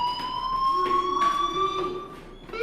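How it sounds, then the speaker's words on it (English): A fire alarm rings inside the video game Life is Strange, a steady electronic tone sounding continuously and fairly loud throughout, with a rising siren-like wail layered beneath it. "Hey, do you hear that fire alarm?"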